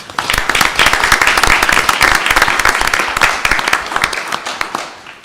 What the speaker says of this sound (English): So I think it would be appropriate for us to give Dr. Calais a round of applause.